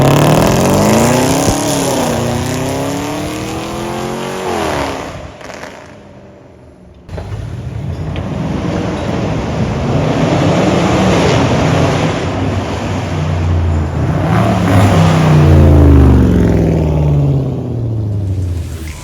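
A Rover with a stage 2 tune and titanium catback exhaust makes loud flybys on a road: engine notes rise and fall as it approaches and passes, with a brief lull midway and wind buffeting throughout.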